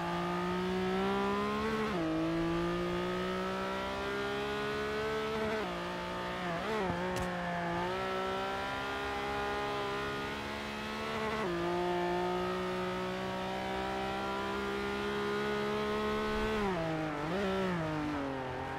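Race car engines in the video game Forza Motorsport 5 drone through an online Xbox One race, with a sustained high whine that dips at gear shifts and climbs again, steady and fairly quiet throughout.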